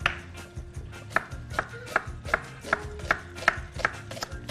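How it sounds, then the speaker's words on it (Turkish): A knife chops an onion on a board in a steady series of about ten crisp, evenly spaced strikes, close and clear, with no talking. "Ben sana soğan doğrayacağım şimdi."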